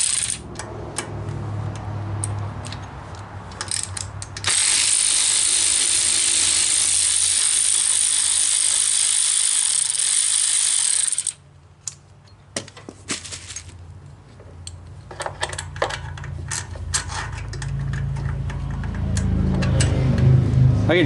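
A ratchet wrench fitted with a new socket works on a Cub Cadet riding mower. A long stretch of loud, steady mechanical hiss gives way to close, uneven ratcheting clicks, with a voice speaking now and then.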